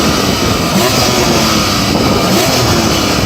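A sports car engine roars loud and close during a drag-race sound check, a dense continuous rasp held at high revs with no break or talk over it.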